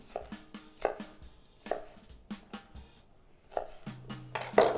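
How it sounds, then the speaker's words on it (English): Knife chopping red pepper on a cutting board for paella, a handful of separate sharp taps and short bursts spaced irregularly, close and fairly quiet, with a faint clatter of pans near the end. "I got to chop up my red pepper here a little bit."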